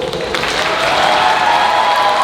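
Convention audience at a fan Q&A with actor Kevin McNally gives a burst of applause that swells slightly and stays loud and dense, with faint crowd voices mixed in.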